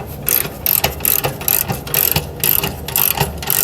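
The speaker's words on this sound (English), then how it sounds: "Maybe back a little too far, and just tighten up the blade." A sawmill blade being tightened with a ratchet, giving repeated bursts of sharp metallic clicking in a steady back-and-forth rhythm, loud and close with no voices.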